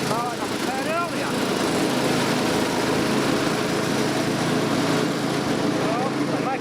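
A restored Victa 526 lawn mower runs steadily while cutting grass, with a continuous close engine drone throughout and faint chirps near the start.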